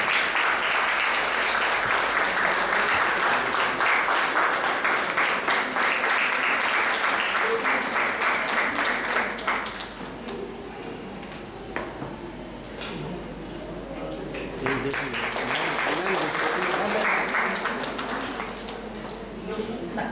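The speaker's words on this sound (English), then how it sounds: "I hope the audience will remember to give a huge round of applause" A lecture-hall audience gives a guest a big round of applause at a memorial lecture, loud dense clapping that thins and dips midway, then rises again, with scattered voices mixed in.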